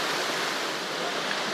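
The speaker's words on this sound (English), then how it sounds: "All this sound of rushing water put you right to sleep." Steady, dense roar of rushing water on the New River, a constant loud hiss of whitewater flowing over boulders with no break or voices.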